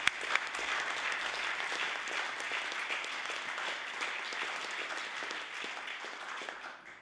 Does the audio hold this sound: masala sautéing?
no